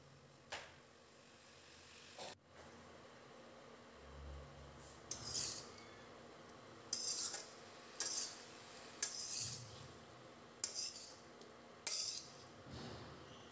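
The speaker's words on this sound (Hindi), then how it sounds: "धीरे धीरे हम इसको धीमी आंच पर इस तरीके से चलाते रहेंगे" Potatoes and spring onions being stirred in a pan over a low flame, with quiet, evenly spaced clinks and scrapes of a spoon against the metal, roughly one each second.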